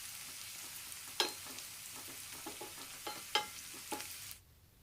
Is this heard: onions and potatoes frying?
yes